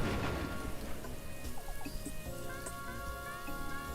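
Steady rain patters in a video game, a dense soft hiss of drops with scattered tonal chimes and faint bird-like calls over it, fairly quiet throughout.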